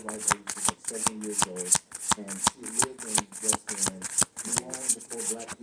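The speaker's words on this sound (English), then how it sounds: "I'm gonna pull one more of these cards and see what the message is" Tarot cards are shuffled steadily and close up, producing a dense run of crisp riffling snaps and flicks while a person talks throughout.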